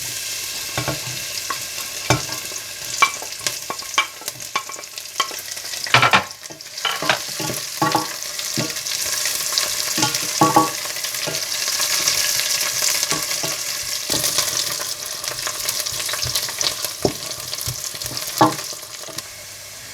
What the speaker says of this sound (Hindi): और साथ ही आप छुहारे और पिस्ते बादाम डालकर थोड़ा फ्राई कर लें